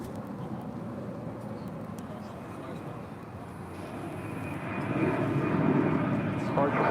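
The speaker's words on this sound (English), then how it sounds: "That is American Airlines Flight 2393 coming in from Fresno, California. It's a 737-800, touching down on 36 left." An American Airlines Boeing 737-800 touches down on runway 36 left at DFW: a distant, broad jet rumble that swells louder in the last seconds, with talk over it.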